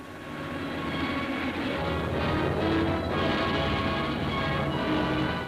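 Heavy bombers and fighter aircraft of the American 8th and 9th Air Forces in a wartime newsreel, a loud sustained droning engine roar with slow swells, continuous and alone without talk.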